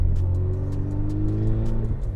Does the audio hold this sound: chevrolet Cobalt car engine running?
yes